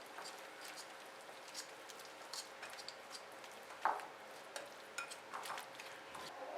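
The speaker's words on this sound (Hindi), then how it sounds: "अब इसको मिक्स करेंगे।" Microwaved chopped dark chocolate and cream being mixed in a bowl, with faint, soft, wet scraping strokes and an occasional light clink of the spoon, quiet and close.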